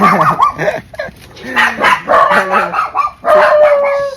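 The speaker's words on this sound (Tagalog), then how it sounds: "kasi na daming aso" Several dogs bark and yip close by at a seaside spot in Bonuan, Dagupan, overlapping in bursts, with a howl-like whine woven in and some people talking underneath.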